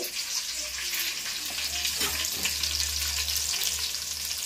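Onions sizzle in a pan, a steady close-up hiss of frying with occasional stirring scrapes and a low stove hum beneath, no talking.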